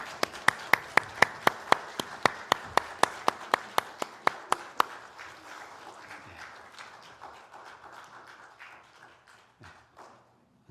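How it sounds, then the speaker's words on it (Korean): Congregation clapping at a Sunday joint worship service in a Korean church: about twenty sharp, evenly spaced rhythmic claps in unison, then scattered softer applause trailing off into quiet. "하나님께 영광의 박수 올려드리겠습니다."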